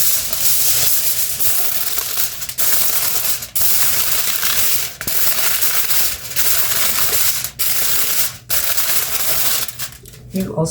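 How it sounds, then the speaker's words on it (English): Aluminum foil crinkling and rustling loudly and close up in continuous bursts with brief pauses, handled while marinating a 10.8 lb pork tenderloin; a person speaks at times over the noise. "We have aluminum foil."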